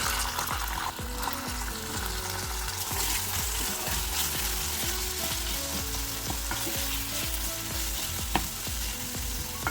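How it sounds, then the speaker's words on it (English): Onions fry in mackerel fishball curry paste, a steady close sizzle broken by repeated rhythmic scrapes and knocks of stirring, with no talking. "we're going to fry that until the onions have really softened up, browned"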